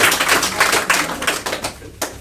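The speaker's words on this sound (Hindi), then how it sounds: "तो ताली बजाइए इनके नाम पर भी" An audience of students in a classroom claps for a classmate: brisk, dense, overlapping hand claps that run unbroken and fade slightly toward the end.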